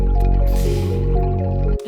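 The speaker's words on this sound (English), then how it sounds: "this granular piano from Hurts to Breathe" Granular piano sample from Hurts to Breathe playing sustained chords, a smooth, shimmering tone held steadily with soft textured grain, then cutting off abruptly near the end.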